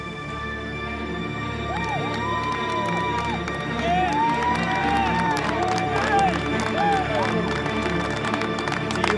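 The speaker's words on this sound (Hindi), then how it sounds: "सक्सेसफुली जंप करने के बाद टॉम क्रूज सेफली लैंड हुए और सब ने उनके लिए तालियां बजाईं" A crowd cheers and claps after Tom Cruise's stunt landing. Scattered applause builds beneath shouts and excited voices, a lively open-air mix that grows louder toward the end.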